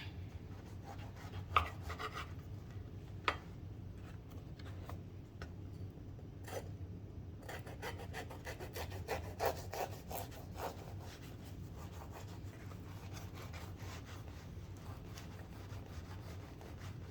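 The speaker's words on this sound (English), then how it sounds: "you want to use a serrated knife" A serrated knife saws through bread in steady, faint back-and-forth rasping strokes, with a couple of light knocks near the start and no voices.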